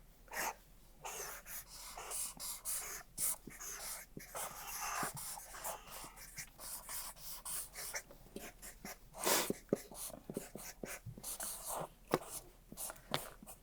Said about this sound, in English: She's still writing.